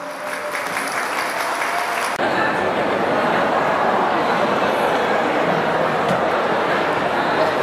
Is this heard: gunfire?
no